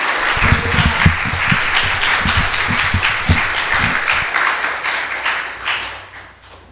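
A church congregation applauds to welcome their pastor at a Sunday service, a dense, steady round of clapping that swells and then gradually tapers off near the end.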